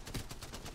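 Rapid gunfire in the video game Apex Legends, a quick burst of several shots in a fast rhythm, moderately loud over busy game noise.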